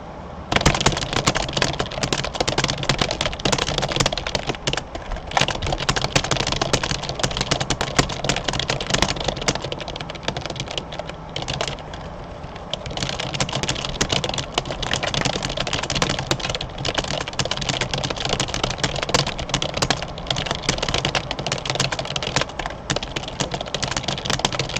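Rapid, continuous typing on a new computer keyboard, dense clicking keystrokes close up with only a brief slowdown midway and no talk.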